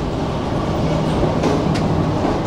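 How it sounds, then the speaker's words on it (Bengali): A luxury passenger train rolls out of Rawalpindi railway station in Pakistan, heard as a loud, continuous rumble of wheels and carriages with faint squeals. "এটি হচ্ছে পাকিস্তানের সবচেয়ে লাক্সারিয়াস ট্রেন"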